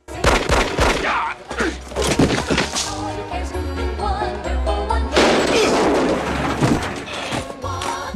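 Gunshots in a scene from the movie Beverly Hills Cop III, loud sharp bursts clustered at the start and again later, over a busy soundtrack mix.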